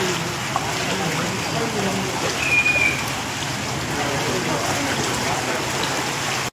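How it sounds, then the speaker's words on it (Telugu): Steady rain pours down over flooded streets in Guntur, a dense, continuous hiss that stays even and fairly loud throughout, with a faint bird call briefly audible in the middle. "ఈ వర్షం"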